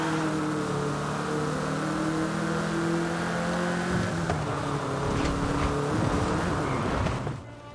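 Volkswagen Beetle driving in Forza Horizon 5, a steady engine hum with shifting tones as it accelerates, loud and close, with rain-like background hiss and a sudden drop at the end.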